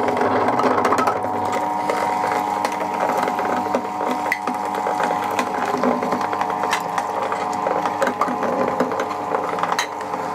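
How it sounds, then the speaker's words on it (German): An MM 1500 machine processes chickpeas into raw hummus, giving a steady, loud mechanical whir with grinding, rattling texture that runs without a break, and no talking. "Also Maschine an."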